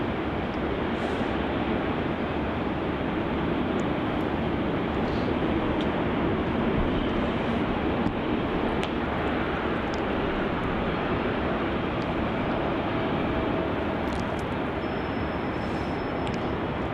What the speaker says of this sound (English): Got that Vietnam A350 taxiing up there to runway 34 for its departure to Ho Chi Minh City.